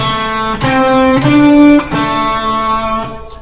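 Guitar plucks a short melodic phrase of a few distinct notes, each attack ringing before the next, ending on a decaying sustained tone.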